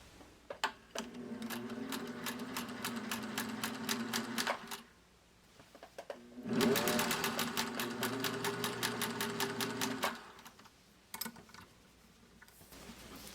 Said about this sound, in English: I'm just using a straight stitch because we don't need it to be stretchy for this sweater